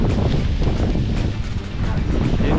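Strong wind gusting across a paragliding takeoff site at Aglou, Morocco, a loud, continuous rushing roar buffeting the microphone throughout, dipping briefly before surging again.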